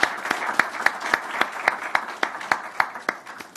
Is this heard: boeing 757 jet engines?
no